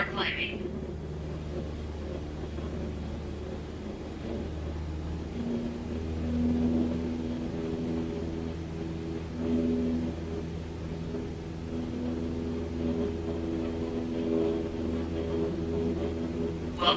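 A single-engine aircraft in Microsoft Flight Simulator drones steadily at full throttle while climbing, a low constant hum with a harmonic whine that rises slightly midway, under an instructor's calm narration.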